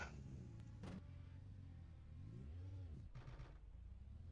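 A race car engine starts up in the iRacing sim, a close loud idle whose pitch sweeps upward and drops back, with short sharp bursts before and after.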